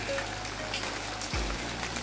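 Rain falling outdoors at a home workshop, a steady wash of patter and hiss throughout, with a low mechanical hum and a brief deeper thump partway through.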